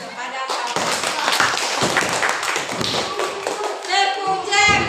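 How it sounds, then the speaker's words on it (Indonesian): Children in a classroom clap their hands for a classmate in a busy, uneven burst of claps and taps. Young voices chatter over the clapping. "kasih tepuk tangan kepada kawan"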